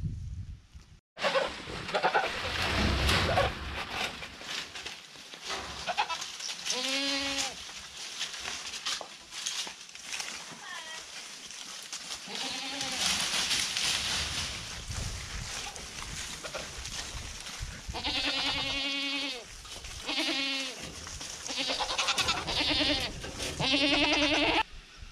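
Several goats bleat repeatedly, some close and loud, over a busy background of shuffling and rustling, with a few bleats overlapping.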